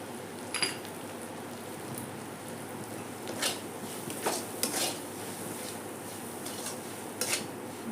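A spatula or spoon scrapes and clatters against a metal pan while katla fish in mustard paste is sautéed and stirred. The sounds come as intermittent metallic scrapes and taps over a soft background hiss, with no talking.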